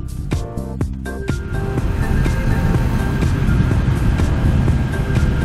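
A 2017 Honda CBR650F motorcycle's steady engine drone with rushing wind noise, heard while riding, loud and continuous, rising slightly after the first second.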